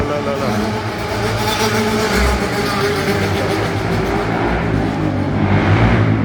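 A loud motorbike engine revs and roars continuously, steady and close, with some talking mixed in.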